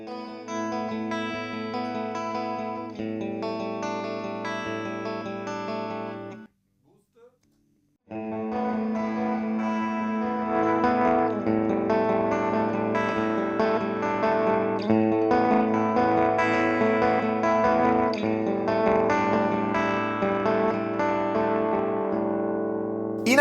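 Electric guitar through a Formula B Fuzz Rangers fuzz pedal on its low switch setting, full of bass, plays thick, distorted chords, stops for about a second, then resumes with dense sustained fuzzy strumming.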